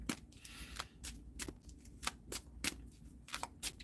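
A deck of tarot cards is shuffled close by, giving a rapid run of crisp riffling bursts at a quick, uneven rhythm.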